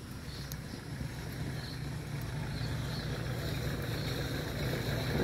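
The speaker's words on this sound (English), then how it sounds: "Yung tractor na oh. Tractor." Tractor engine rumbling past outdoors on a morning walk with dogs, a low steady drone that builds slightly in loudness over a few seconds, faint and somewhat distant.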